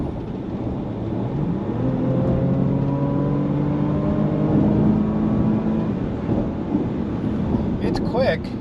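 Porsche Macan S at full throttle, engine note straining and climbing steadily through a couple of gear changes, moderately loud with wind rush underneath, easing off toward the end.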